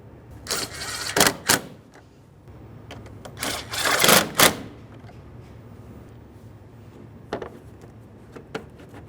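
Mounting bolts being tightened on a 2012-2018 Nissan Altima 2.5L L4 radiator, heard as clusters of sharp ratcheting clicks in short bursts, then a few isolated clicks in a quiet space.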